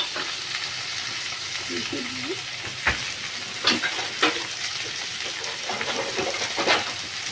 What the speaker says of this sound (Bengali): টমেটো কুচিটা দিয়ে আমি একটু নাড়িয়ে নিয়ে এটাকে 2 মিনিটের জন্য